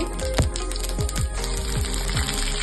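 Mustard seeds pop and splutter in hot coconut oil, a rapid crackle of sharp little bursts over a steady sizzle, close by.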